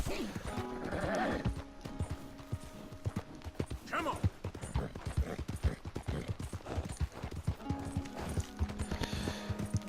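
Horse hooves clip-clop in Red Dead Redemption 2, a steady run of hoofbeats with a whinny near the start and game music and talk over them.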